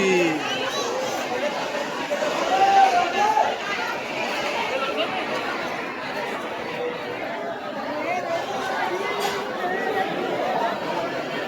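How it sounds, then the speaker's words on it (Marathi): Many voices blend into a thick, constant babble at the Barsana Holi festival, swelling slightly at times, with a few nearer calls standing out from the crowd. "गर्दी बघा, गर्दी."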